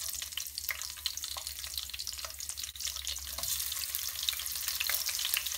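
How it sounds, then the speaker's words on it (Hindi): Sliced onions sizzle steadily in a pan with black pepper and Kashmiri chillies, a soft continuous hiss and crackle with occasional stirring clicks, close but fairly quiet. "और हम इसे इतना फ्राई करेंगे कि प्याज ब्राउन हो जाए"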